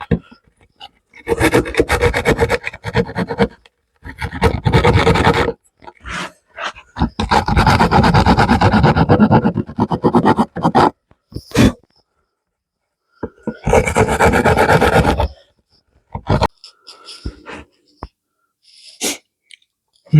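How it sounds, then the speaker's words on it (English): A half-moon rasp files rough breakout from a drilled hole in a scrap-wood bird house, in several bursts of loud, close scraping strokes separated by brief pauses. "I'm just going to use a half moon rasp"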